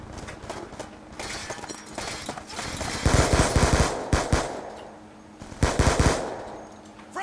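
Bursts of automatic gunfire in a Call of Duty: Black Ops 2 multiplayer match, loud rapid rattles in several clusters with short pauses between them, and a faint voice underneath.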